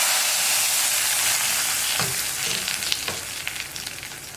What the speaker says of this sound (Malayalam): അപ്പോൾ ഞാൻ വറവ് കറിയിലേക്ക് ചേർക്കുകയാണ്.